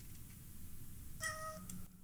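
A short electronic cat meow sound effect from a Pentax Optio E30 digital camera, a single synthetic mew lasting well under a second, heard alone at low volume over faint background hum.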